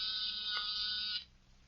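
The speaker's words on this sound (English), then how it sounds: "That's nothing but a small buzzer and battery set. An ordinary door buzzer." An ordinary door buzzer run from a small battery set gives a steady, loud electric drone lasting just over a second, then cuts off abruptly into quiet room tone.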